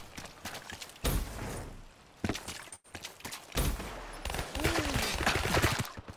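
Gunfire in the video game Black Ops 3: several quick bursts and volleys of shots in close succession, moderately faint, with short lulls between them.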